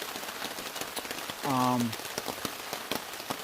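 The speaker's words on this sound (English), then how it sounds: "Once the rain settles, it's only a shower." Steady patter of rain on a surface with scattered drops, with a brief tonal sound rising over it midway.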